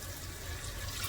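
Water is poured into a pot of rice before cooking, a steady close rushing splash that runs without a break for the whole moment, with no voices.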